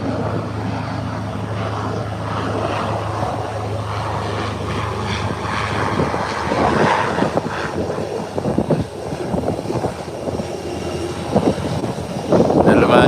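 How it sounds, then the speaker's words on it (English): Beechcraft 1900 turboprop landing, a continuous mid-distance engine drone with a low steady hum that grows rougher and louder toward the end, with no voices. "here comes the Beechcraft 1900."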